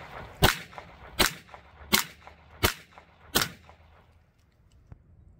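A BinTac S45 Mini pistol fires five sharp, evenly spaced shots outdoors at pumpkins, each crack snapping out at moderate distance with short decays, followed by quiet.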